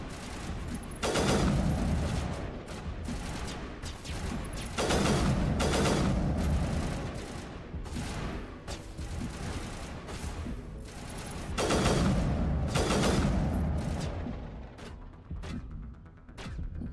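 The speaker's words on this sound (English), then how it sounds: "Who's shooting over there?" Sustained gunfire from the video game Mass Effect: repeated bursts of rapid shots in several long volleys with brief pauses, loud and continuous across the whole stretch, with no talking over it.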